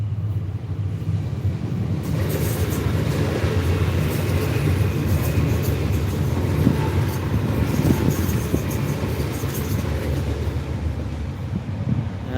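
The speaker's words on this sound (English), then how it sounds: "We've got a train coming. Here we go. It's just coming through now." A train passing through between Westall and Springvale stations, a steady, broad rumble of wheels and carriages that swells in after a couple of seconds and stays loud and close, with wind buffeting the microphone.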